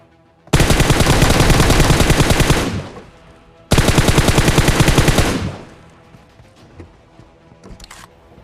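Gunfire in the PUBG Mobile game: two long, loud bursts of rapid automatic fire, each lasting a couple of seconds, followed by quieter scattered game sounds.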